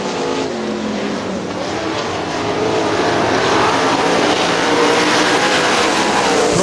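410 sprint cars race around a dirt oval in an AVSS event at Butler Battlegrounds in Quincy, Michigan, their loud engines roaring continuously and swelling as the pack passes close by, with a faint announcer voice over the track.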